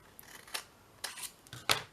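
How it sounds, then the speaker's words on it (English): A few quick snips of scissors cutting paper, close and fairly quiet, in short irregular strokes with no talking. "I'm going to cut it right to the corner"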